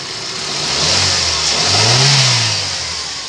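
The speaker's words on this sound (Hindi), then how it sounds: "गाड़ी स्टार्ट है" A Chevrolet Sail car engine running on CNG revs up twice in a loud, close rising-and-falling swell over a steady hum, with no talk.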